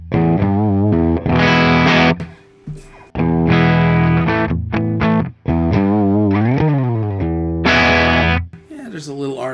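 An electric guitar plays through a Recto amp plug-in with the 808 overdrive switched off. It gives thick, buzzing sustained chords and sliding notes, loud and up front, broken by a few short pauses.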